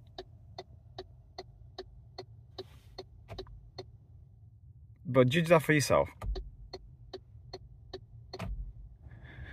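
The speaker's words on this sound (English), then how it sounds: "the indicators are very, very loud" The turn indicators of an MG4 Long Range SE tick steadily and crisply inside the cabin, and a voice briefly cuts across the regular clicking partway through.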